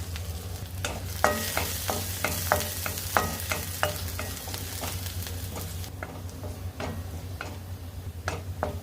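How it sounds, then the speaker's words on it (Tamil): Ten to fifteen garlic cloves roasting in hot oil in a kadai, a continuous close sizzle punctuated by frequent sharp ticks and clacks of a spoon stirring against the pan. "ஒரு கடாயில் கொஞ்சம் எண்ணெய் விட்டுக்கோங்க. எண்ணெய் சூடானதுக்கப்புறம் இதில் 10லேருந்து 15 பல்லு பூண்டை ரோஸ்ட் பண்ணி எடுத்துக்கலாங்க."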